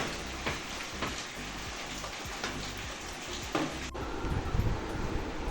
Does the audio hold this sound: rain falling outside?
yes